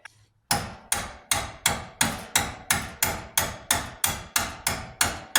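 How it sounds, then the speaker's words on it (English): A hammer strikes a steel punch to drive a tight bolt out of the front axle of a Hummer H3 or Chevy Colorado. About a dozen loud, ringing metallic blows follow one another at a steady, even pace after a brief silence. "I'm going to take this punch and continue hitting from this side"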